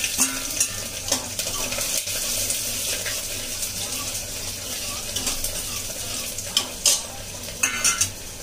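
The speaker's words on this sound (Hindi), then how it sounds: "तो मैं ये प्याज डाल रही हूँ, लहसुन और हरी मिर्च डाल रही हूँ।" Onion, garlic and green chili frying in a home kitchen pan, giving a steady continuous sizzle with stirring scrapes and a few louder clatters, and running water from a tap nearby.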